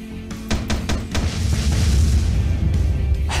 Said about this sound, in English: I like the explosions.